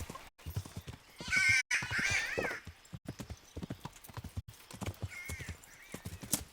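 In the Kingdom Come Deliverance video game, a horse's hooves clip-clop in a quick, steady rhythm, with a short whinny rising near the start and another fainter neigh later.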